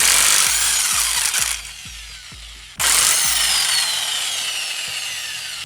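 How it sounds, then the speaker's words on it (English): An impact gun loosens car wheel lug nuts, rattling in fast, loud hammering bursts close by. It pauses for a moment, then picks up again for a second long run. "we're gonna take our impact gun and we're gonna take off the lug nuts"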